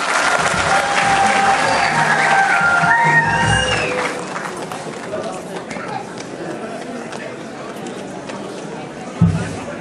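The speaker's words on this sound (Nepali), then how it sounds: "तालीले स्वागत गर्नु होला दर्शकले।" A crowd at a stage show in Kuwait bursts into dense applause and cheering, loud at first and then thinning out, with a voice speaking over it.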